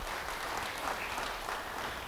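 Congregation applauding at a church service, a steady wash of clapping that holds at an even level for a couple of seconds without a break.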